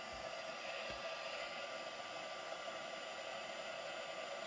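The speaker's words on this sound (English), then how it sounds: "So I'm going to heat set from the underside of this" A heat tool blows hot air from beneath a card to set embossing powder for an art journal page, giving a steady, even fan-like whoosh throughout, moderately close with no talking.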